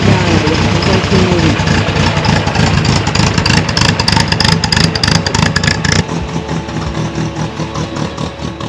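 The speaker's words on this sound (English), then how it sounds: "So I got the engine to run and it moves" A 1958 MGA Coupe barn find runs its engine steadily and loud throughout, a dense mid-range drone with rough pulsing texture, dropping slightly in level after about six seconds as the car moves off.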